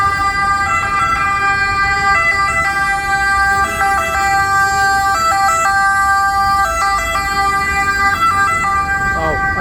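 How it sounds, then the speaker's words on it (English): An ambulance siren wails steadily and loudly on a busy street in Italy, alternating between two pitches over traffic noise for nearly ten seconds. "Ambulance."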